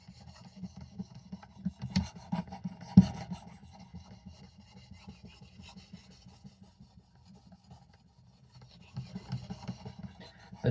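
An Old Timer Sharpfinger knife blade is drawn across a sharpening stone, with repeated close rasping strokes, a quieter stretch in the middle, and a return to steady filing at the end.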